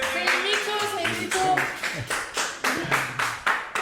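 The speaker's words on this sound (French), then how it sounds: "applaudissez-les s'il vous plaît" Audience clapping for a matched couple at a pop-the-balloon dating game, a run of sharp, fairly steady claps heard close under a speaking voice.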